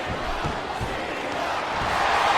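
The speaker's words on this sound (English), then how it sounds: "The crowd is coming alive." Steady, dense crowd roar and cheering from a WWE SmackDown vs Raw 2008 video game arena, loud and continuous, gradually swelling.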